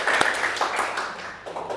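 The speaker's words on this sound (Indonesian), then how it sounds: "Kita beri tepuk tangan dulu untuk kalian semua" Students in a classroom give a short burst of applause, scattered clapping close by that starts strong and gradually thins out, with some voices heard under it.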